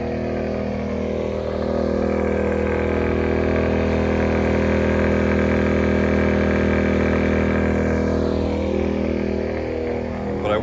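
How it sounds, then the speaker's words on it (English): Genmax GM1200i 1200-watt inverter generator running at maximum load with a crockpot, waffle iron and TV plugged in, giving a steady, fairly loud engine drone that holds constant throughout. "I would say we are at max on this generator"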